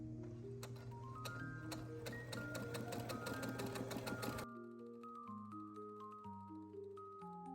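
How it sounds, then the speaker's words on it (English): A sewing machine on its longest stitch runs steadily for about four seconds, stitching fabric near a hem, its rapid mechanical stitching loud and close, then stops, leaving a few quiet clicks. "put your sewing machine on the longest stitch that it can go on"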